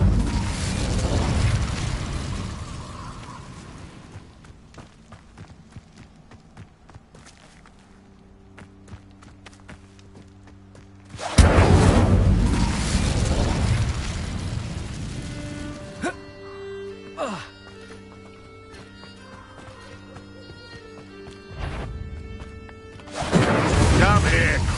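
Confringo blasting spells in Hogwarts Legacy on PS5 set off heavy booming explosions, three loud bursts spread across the stretch, with crashing debris, running footsteps and battle music between them and voices shouting over the action.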